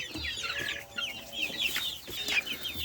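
Chickens clucking in short, repeated bursts at close range, with faint background noise and no talk.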